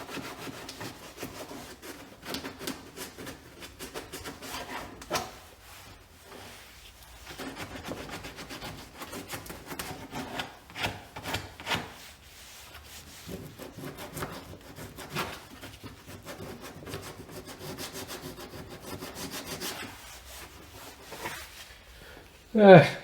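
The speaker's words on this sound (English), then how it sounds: "Not really the best sandpaper for this, but it was in the box with the multi-tool" Hand sanding with coarse sandpaper from a multi-tool kit on a car bumper during tow hitch fitting: uneven rubbing strokes, moderately close, in bursts with short pauses and a louder scrape at the end.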